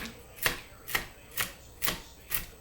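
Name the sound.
chopping nuts with a knife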